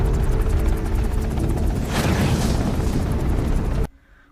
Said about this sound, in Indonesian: ketika pesawat pengebom mulai menjatuhkan bomnya